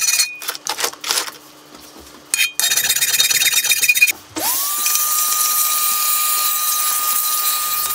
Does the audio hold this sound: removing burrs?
yes